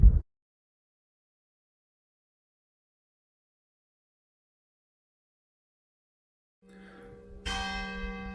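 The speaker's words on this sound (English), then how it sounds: "just behind me, we've got the church bells ringing" Village church bells in France ring out after a long stretch of silence, a sudden bright cluster of tolling tones swelling in the last couple of seconds, moderately distant and alone.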